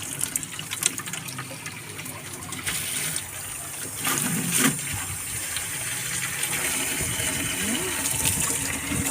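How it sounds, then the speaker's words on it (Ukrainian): Tap running with warm and cold water, a steady close gushing stream that grows fuller partway through as a container fills, with faint background noise and no clear speech. "Тут вода є і тепла, і холодна, так що я візьму таку не дуже холодну воду."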